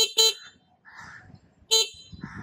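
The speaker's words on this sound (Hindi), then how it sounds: "कुछ ऐसा हॉर्न मिल जाता है आपको इस स्कूटर में काफ़ी अच्छा और काफ़ी शार्प वॉइस है" Two short, sharp horn beeps from an Ampere REO+ electric scooter, close by, separated by a pause with faint talking and rustling in between.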